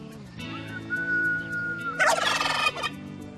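Turkeys gobble loudly in a farmyard in the French village of Collonges-la-Rouge, answering a person's sustained whistle; a rattling burst of gobbles rises near the middle and trails off over the whistled tone.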